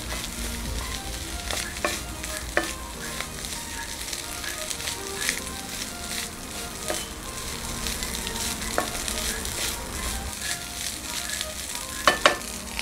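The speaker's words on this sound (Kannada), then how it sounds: "ಎಂತಕ್ಕೆ ಮಾಡ್ಕೊಂಡಿರೋಂಥ ರೈಸ್ ಹಾಕ್ತಾ ಇದ್ದೀನಿ. ಚೆನ್ನಾಗಿ ಮಿಕ್ಸ್ ಮಾಡ್ಕೊಳ್ಳೋಣ." Cooked rice for egg rice being stirred and fried in a hot pan: a steady, close sizzle with repeated scraping and clinking of the spatula against the pan, and a couple of sharper knocks near the end.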